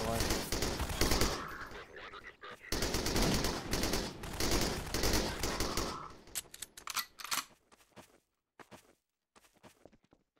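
Garry's Mod machine gun fires long, loud automatic bursts for about six seconds, then tapers into scattered short shots and single pops with gaps between them.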